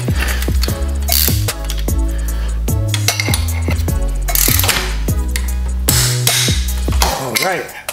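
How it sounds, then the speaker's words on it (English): A ratchet tightens an exhaust bolt to torque on a 2020 Yamaha MT09 during an Akrapovic carbon full exhaust install, giving rapid, loud, close clicking strokes in repeated bursts throughout. "now we tighten this bolt here to 16 pounds feet of torque."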